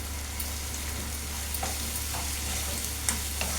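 Sliced koyagura with turmeric fries in a kadai with a steady close sizzle, while a spoon scrapes and stirs through it in a few soft strokes.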